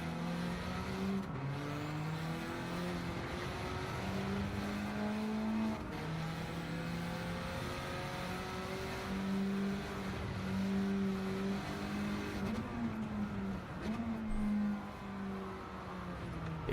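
A race car engine in a racing video game holds a steady loud drone, its pitch sliding up and down through gear changes and lifts across the lap, continuous with no talk.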